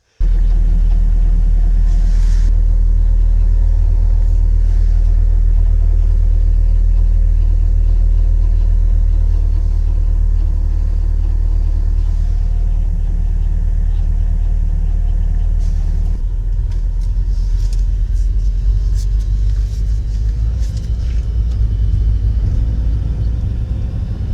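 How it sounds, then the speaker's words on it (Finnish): An old used Subaru car idles loudly and close after starting, a deep steady engine rumble that changes partway through into a busier, rougher sound with faint metallic rattling. "Varsinkin kun käynnisti auton ja antoi sen käydä hetken, niin alkoi semmoinen ihmeellinen metallinen kahina."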